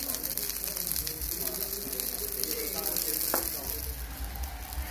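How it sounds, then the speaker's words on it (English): Hyderabadi shami kebabs shallow frying in oil in a pan, a continuous close sizzle and crackle with occasional light scrapes, steady throughout with no talking. "So we'll just shallow fry it."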